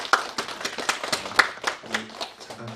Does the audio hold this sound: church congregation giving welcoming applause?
yes